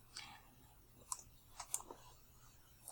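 A computer mouse clicking on a map: a handful of sharp, quiet clicks spaced irregularly over a faint background hum.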